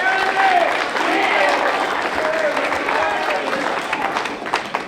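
A wrestling crowd at a Metro Pro Wrestling show, on its feet, cheers and applauds steadily, a dense, loud wash of clapping and shouting that runs unbroken through the whole stretch.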